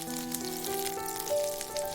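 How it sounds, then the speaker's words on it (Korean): Korean pancake batter (jeon) frying in a generous layer of cooking oil in a pan, a steady close hiss and crackle that runs without a break, with no talking. "식용유를 넉넉히 두르고 반죽을 넣고 가장자리가 노릇해지면 뒤집어줍니다"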